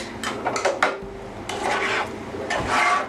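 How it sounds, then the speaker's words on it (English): Browned ground meat for chili is scooped and dumped into a crock pot in short bursts of close scraping and rubbing, with brief pauses between them. "Let me just pick this up, dump it in the crock pot."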